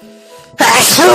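A single loud, close sneeze bursting in suddenly after a brief spoken word, sharp and breathy.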